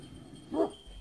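A shepherd's wolf-guarding dog gives a single short bark, faint and at a distance over a quiet background.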